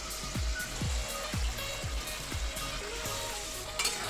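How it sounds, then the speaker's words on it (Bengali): Rohu fish koftas cook in a pot of curry gravy, a bubbling and sizzling simmer with a run of soft repeated plops and gurgles close by and no talking. "গ্রেভি ফুটে উঠলেই কোপ্তাগুলো ছেড়ে দিতে হবে"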